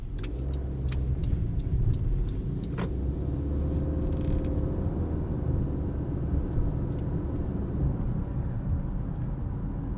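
Cabin view from inside a 2020 Honda CR-V Touring AWD crossover on the road, with a steady low engine and road rumble and tire noise throughout, plus a few faint clicks early on and no talking.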